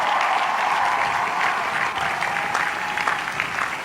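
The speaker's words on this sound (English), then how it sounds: "Let's give the parents and the families a big hand of applause." Sustained applause from a large audience for parents and families at a graduation-style ceremony, steady and dense clapping throughout with no talk over it.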